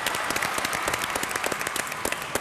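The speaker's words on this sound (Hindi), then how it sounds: "जोरदार तालियां।" A TV game show studio audience applauds steadily, dense clapping that holds at an even level throughout.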